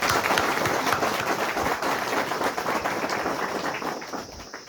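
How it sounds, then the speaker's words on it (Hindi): Crowd applause at a closing ceremony for a Unity Run at an Air Force Station, a dense, steady wash of clapping that holds throughout and eases slightly near the end. "आप सब मेरे साथ मिलकर उनके लिए तालियों की गड़गड़ाहट से उनका अभिनंदन करें"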